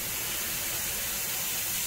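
A McCulloch MC1375 steam cleaner sprays steam with a steady, broad hiss that runs unbroken for about two seconds. It sounds close, fairly soft and constant, with no voices over it.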